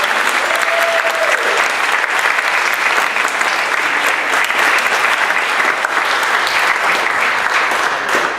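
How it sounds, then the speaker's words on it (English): Sustained, loud applause from a storytelling event audience, dense and steady throughout with no talk over it. "join me in another round of applause"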